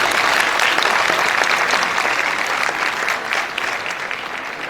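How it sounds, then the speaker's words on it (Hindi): Audience at the 24th convocation of Veer Bahadur Singh Purvanchal University in Jaunpur claps steadily in a large hall, a dense, sustained wash of applause that stays loud throughout and eases slightly toward the end. "कृपया इन बच्चों के उत्साहवर्धन के लिए तालियां बजाते रहें"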